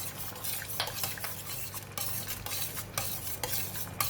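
Spoon stirring flour mix into a simmering sweet and sour sauce in a pan, soft scraping and clinking strokes repeating over a quiet sizzle, close and with no talk.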